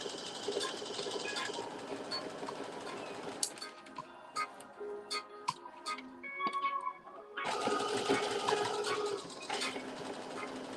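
A sewing machine stitches a sweatshirt bodice made from McCall's pattern M8447. Two close runs of rapid mechanical whirring are split by a quieter pause filled with scattered ticks and clicks.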